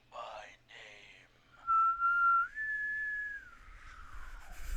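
A caller whistles a short, clear tune in the Killer Frequency radio-show game, alone and close, with a few breathy notes before a sustained rising and falling melody.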